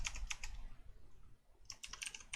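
Close, quiet tapping on a computer keyboard comes in two short clusters of crisp keystrokes with a brief lull between them.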